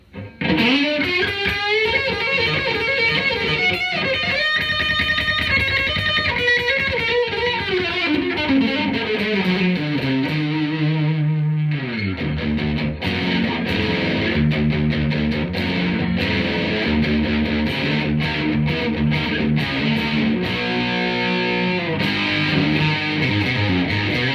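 Electric guitar played through a Boss DS-1 distortion pedal, loud and sustained, with chords and riffs that shift pitch and continue unbroken.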